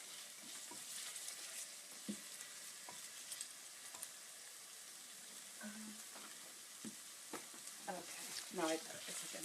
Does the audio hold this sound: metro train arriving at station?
no